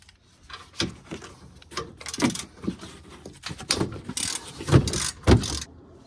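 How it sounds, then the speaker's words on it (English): A ratchet with a 14 mm socket works loose the lower control arm bolts on a truck during a shock and control arm install, giving bursts of clicking and metallic clacks spaced irregularly and fairly close. "We're going to remove them with a 14 millimeter."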